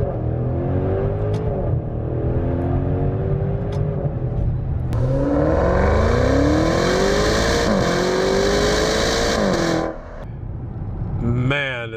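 A 2019 Maserati Levante GTS revs hard under acceleration while being driven, its engine climbing in pitch through repeated gear pulls toward a 7,000 RPM redline, loud and close from inside, then easing off near the end.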